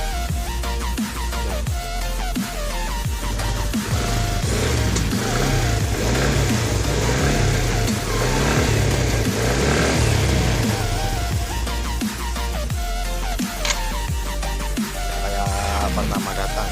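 A repaired motorcycle engine, fixed after a knocking noise inside, runs steadily and loudly at close range with a continuous low rumble and no talk over it.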